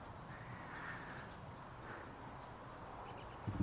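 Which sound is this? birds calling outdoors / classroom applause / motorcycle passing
birds calling outdoors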